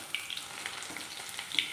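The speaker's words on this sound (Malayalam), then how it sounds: "ഇനി നമുക്ക് ഇതിനകത്തേക്ക് ഒരു 3-4 ചോള വെളുത്തുള്ളി നമുക്ക് ഒന്ന് മൂപ്പിച്ചെടുക്കാം" A few crushed garlic cloves fry in hot oil for a spicy homemade mixture, giving a close, lively sizzle with small crackling pops and no voices.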